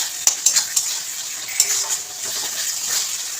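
Pumpkin and taro curry is stir-fried in a pan: a metal spatula clanks sharply against the pan several times over a steady, close sizzle.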